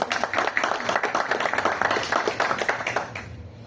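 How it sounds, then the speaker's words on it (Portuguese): Audience applause for a guest at an Ozonteck business presentation, dense steady clapping from a crowd in a hall that fades out toward the end. "Uma salva de palmas para o nosso convidado"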